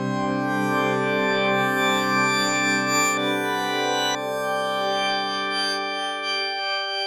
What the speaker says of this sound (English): So if I were to add frames to the sound, I could get something like this